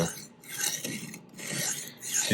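A knife blade is pushed freehand across a coarse whetstone at the proper angle, giving repeated gritty rasping strokes with brief pauses between passes, close and fairly quiet.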